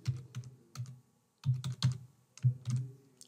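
Computer keyboard being typed on in short clusters of key taps with brief pauses between, close and soft, with no voice.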